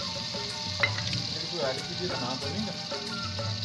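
Hot oil sizzles steadily as spices are tempered, with a voice talking over the crackle and some clatter of utensils.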